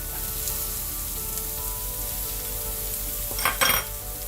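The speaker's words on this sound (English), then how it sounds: "I'm going to add our sliced onions" Sliced onions sizzling in a pan beside cooking burger sliders, a steady close hiss with a brief burst of louder crackling and stirring near the end.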